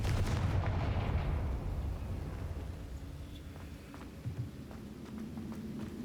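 A Confringo fire blast spell in Hogwarts Legacy erupts as a loud, deep, booming blast at the start, then fades into a long rumbling tail with faint crackles and pops.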